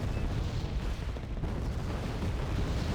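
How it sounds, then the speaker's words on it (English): Artillery firing in the video game Wargame Red Dragon: a continuous, heavy rumbling barrage of booms with no gaps, dense and loud throughout. "And we got artillery being fired now"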